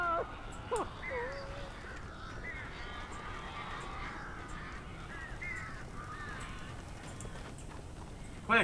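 Crow-like birds in Alan Wake caw harshly, with repeated rasping calls scattered through the clip under a steady background rumble and occasional talk.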